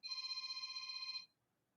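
A phone rings with a steady electronic tone that holds for just over a second and then cuts off, leaving near silence.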